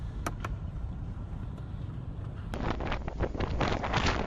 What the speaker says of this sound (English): What a windy day out there right now.